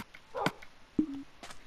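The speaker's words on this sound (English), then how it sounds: "Do you dogs want bones?" Dogs in the Minecraft video game give two short barks or yips about half a second apart, close and clear, with a brief whine after the second, against a quiet background.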